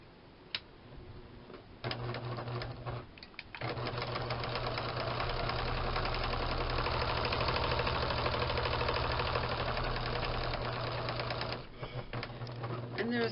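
A sewing machine back stitches along the edge of a folded fabric pouch, its needle running in a fast, even mechanical clatter for about eight seconds, with brief pauses and softer starts and stops around it.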